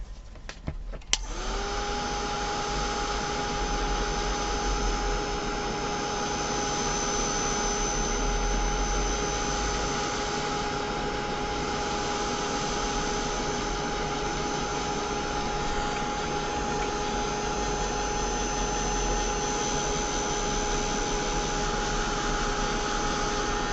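A heat tool switching on with a click and running as a steady, loud, high-pitched blowing whine with a constant tone, drying stamped ink in a papercraft project for over twenty seconds with no talking.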